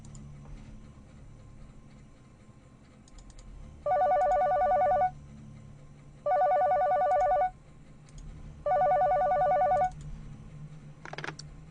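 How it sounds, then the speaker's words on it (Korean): An old-style telephone rings in three evenly spaced electronic bursts in a late-night company warehouse, each trill lasting about a second with quiet gaps between, clear and close with no voices. "이때 갑자기 전화벨이 울리더군요."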